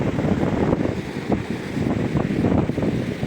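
Strong wind buffets the microphone on an Italian seashore during a storm, a steady loud roar with gusty surges and sand blown across the beach.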